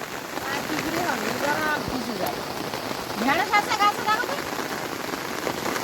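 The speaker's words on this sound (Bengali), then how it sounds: "বাগানের মধ্যে জল জমে গেছে আর বৃষ্টিও হচ্ছে নাগাড়ে বৃষ্টি" Heavy, unbroken rain pours over a waterlogged vegetable garden, a dense steady hiss of drops beneath a person talking nearby.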